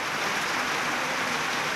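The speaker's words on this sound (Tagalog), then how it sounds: "biglang bumuhos ang ulan." A sudden heavy downpour pours down as a dense, even hiss of rain that holds steady throughout, with no voices.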